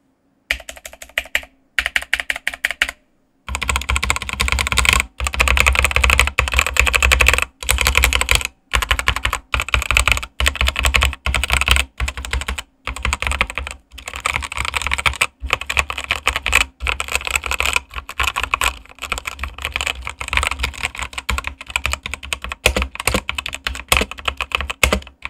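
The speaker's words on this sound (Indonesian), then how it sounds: "Feel dari Automo Black switch ini cukup enak menurutku, karena nggak terlalu ringan sehingga nggak mudah kepencet saat mengetik." Continuous typing on a Digital Alliance Meca 8X 75% mechanical keyboard with Automo Black switches: dense, rapid, crisp keystrokes close up, with a few brief pauses near the start and then steady clatter throughout.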